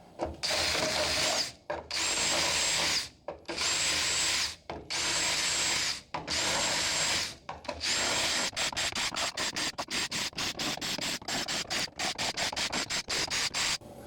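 A power tool grinds off the spot welds on a bracket for a 1956 VW Beetle barn find, long loud whirring runs broken by brief pauses, then a quick series of short stuttering bursts.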